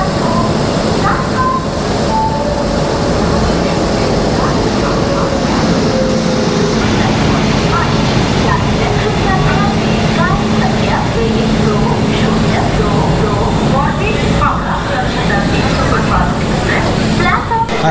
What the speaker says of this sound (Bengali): এতক্ষণে ট্রেন ঢুকলো